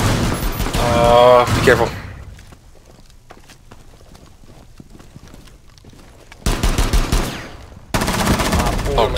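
Rapid automatic rifle fire in a Rainbow Six Siege Beta team deathmatch on the House map, loud close bursts at the start and again near the end, with quieter scattered shots and footsteps between and players talking over the action.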